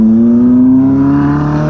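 A Ferrari accelerates past in beach traffic, a loud close engine note rising steadily in pitch over a brief stretch.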